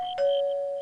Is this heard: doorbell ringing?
yes